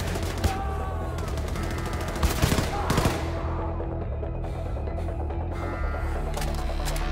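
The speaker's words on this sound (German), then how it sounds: "Irgendwo wird auch noch geschossen." Bursts of rapid automatic gunfire and scattered shots crackle in Wolfenstein 2: The New Colossus, dense volleys early, then sparser pops over a droning game background.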